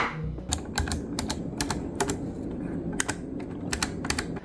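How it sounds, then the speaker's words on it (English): Crisp clicky key presses on a Hori TAC PS5 keypad tap out in a quick, uneven rhythm, close up and sharp against a faint background hum. "offer a distinct clicky response that you will not only hear"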